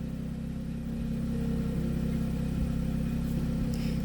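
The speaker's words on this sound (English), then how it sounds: "She may not want to get out because the car is running." A car engine runs steadily at idle, a constant low hum that holds through the whole stretch with no voices.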